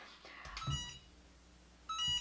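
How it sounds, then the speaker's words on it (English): Two short bursts of electronic beeping from a hat heat press, the second after a pause of over a second, fairly faint against a quiet room. "sometimes the hat press will start to beep randomly while you're doing something"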